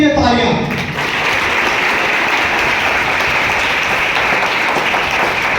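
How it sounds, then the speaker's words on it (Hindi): A congregation at a Christian missionary gathering in Pakistan breaks into loud, sustained applause for Jesus Christ, steady clapping that swells right after a voice at the start and carries on evenly. "मसीह यीशु के लिए तालियां।"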